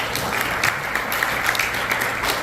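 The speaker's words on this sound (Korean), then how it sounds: "우리 한 분 한 분 호명할 때 뜨거운 박수로 해주시면 대단히 감사하겠습니다." Audience applause at a scholarship award ceremony, a steady burst of clapping from a seated crowd filling the room, even and sustained throughout with no talk over it.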